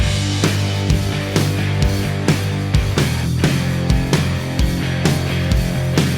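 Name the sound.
mixed drum kit recording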